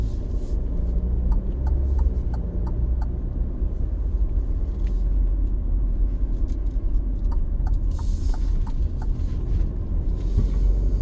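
An Alfa Romeo Stelvio SUV drives along with a low, steady road rumble and engine hum, smooth and continuous, with faint light ticks and rattles over the top and no talking.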